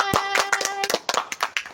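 A few people clap their hands at the end of an Indonesian student podcast about Christianity in Nusa Tenggara, a handful of close, sharp claps in an uneven rhythm with a sustained tone lingering underneath.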